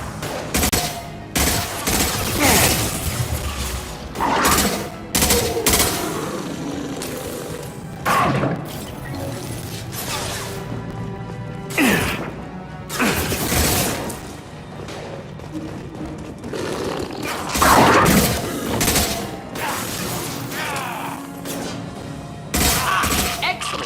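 Mass Effect 2 combat with repeated bursts of gunfire, sharp shots, impacts and crashes, scattered irregularly over a rumbling background. Short lines of dialogue come through between the louder volleys.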